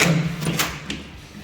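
A door unlocked by slipping a card against its latch is pulled open, giving a soft thud and a brief click of the latch close by, over a low hum.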